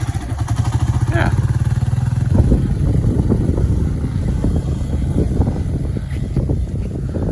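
Dirt bike engine running while ridden, a loud, close buzzing drone that rises and wavers with throttle changes, buffeted by wind noise; a voice talks over it.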